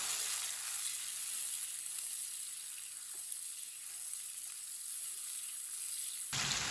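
Tomatoes cooking in a pan for arbi curry give off a loud, continuous frying sizzle that holds steady throughout and ends abruptly, no voices.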